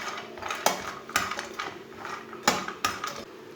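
Cashews and finely chopped coconut browning in a pan, with a spoon scraping and clinking against the metal in irregular bursts, close and moderately quiet.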